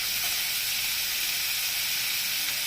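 Vegetables (stalks, potato and tomato) hit a hot pan of Bengali fish stir-fry with a steady, loud sizzle and hiss throughout, close and continuous with no voices.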